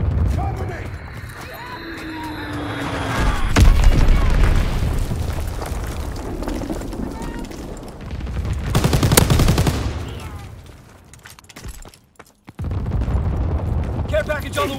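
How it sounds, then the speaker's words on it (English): Azon bomb blasts and gunfire in Call of Duty WWII, with heavy booming explosions, rolling rumble and bursts of rapid shots across a chaotic battlefield, loud and close, with game voice callouts mixed in. "Dropping Azon bomb"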